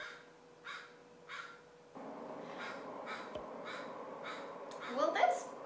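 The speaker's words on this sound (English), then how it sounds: "Will this crow shut up?" A crow caws again and again in short, spaced calls of moderate loudness. A low rustle and background hum join partway through, and a sharper burst of sound comes near the end.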